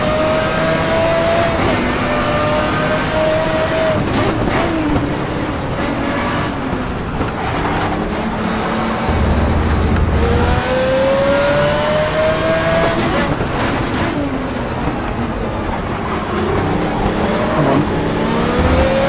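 Engine revving in the racing video game Race On, GTR Evo, loud and continuous, with repeated rising pitch sweeps as the car accelerates through the gears and a steady droning tone underneath.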